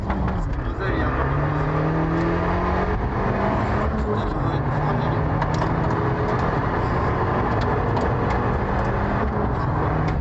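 Tuned Fiat 595 Abarth engine running and revving, a loud continuous rumble with shifting pitch, mixed with people talking throughout.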